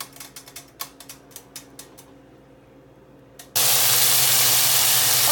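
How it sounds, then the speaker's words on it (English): Steady loud sizzling hiss of chicken feet frying in hot oil, starting abruptly after a few seconds of light ticking and clinking. "now that I have the chicken feet frying"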